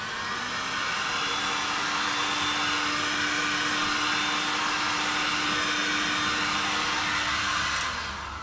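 A heat tool blows with a steady, close airy roar and a faint hum as it warms the back of a resin painting, running continuously for about eight seconds before cutting off.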